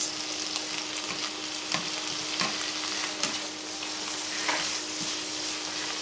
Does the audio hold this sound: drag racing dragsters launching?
no